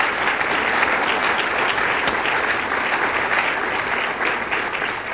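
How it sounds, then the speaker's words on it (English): Sustained applause fills the room at an alumni medallion dinner, a dense, even wash of many hands clapping at once, loud and continuous throughout. "so a nice round of applause for them."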